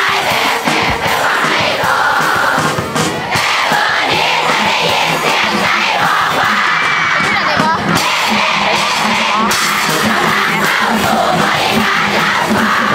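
A loud, dense crowd at a school sports event closing-ceremony rehearsal in Thailand yells and cheers without let-up, with shouting voices on top and occasional bursts of noise.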